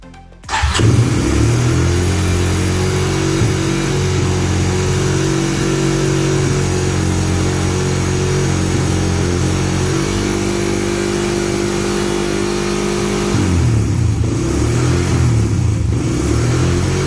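Honda TRX 250 ATV engine with a rebuilt carburetor fires up abruptly and runs steadily, loud and close, with a shift in engine pitch partway through and brief revs near the end.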